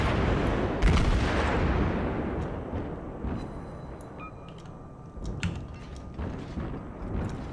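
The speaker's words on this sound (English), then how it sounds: "let's get our side guns firing" Warship side guns fire in World of Warships as heavy booms and rumbling blasts, loudest at the start, fading into a low roar with scattered sharper reports later.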